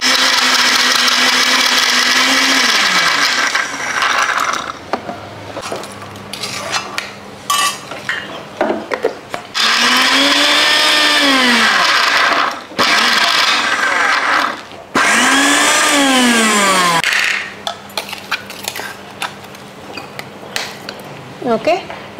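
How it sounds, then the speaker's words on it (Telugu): A mixer grinder churns tamarind, garlic and coarse rock salt in loud whirring bursts, its motor spinning up and winding down several times with short pauses between runs. "చింతపండు, వెల్లుల్లిపాయలు, ఉప్పు నూరుకుందాం. ఒక వెల్లుల్లిపాయ, తర్వాత ఒక కప్పు కల్లుప్పు. ఓకే, ఇవి ఇప్పుడు ముందు గ్రైండ్ చేసుకుందాం."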